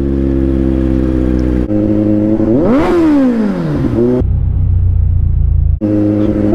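A Kawasaki Z900 superbike's engine, loud and close, holds a deep, steady idle rumble, then revs up in one sweeping rise and falls back down before settling to idle again.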